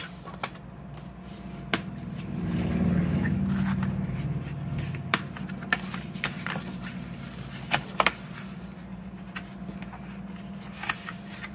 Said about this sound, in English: All right, so now I'm going to fold and burnish.